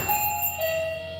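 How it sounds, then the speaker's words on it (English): A door chime rings in a room, sustained tones overlapping and decaying over about a second, moderately loud with no talking. "I was trying to get around that chime."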